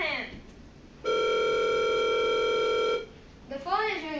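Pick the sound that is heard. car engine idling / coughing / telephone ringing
telephone ringing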